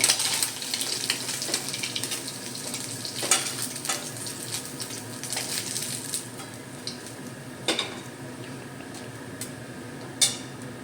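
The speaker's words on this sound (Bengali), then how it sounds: "বাকি মাছগুলো বন্ধুরা আমি ভেজে নিয়েছি, এবার তুলে নেব" Small mourala fish frying in hot oil, a steady crackling sizzle with scattered louder pops and spatters, gradually easing somewhat, with no voices.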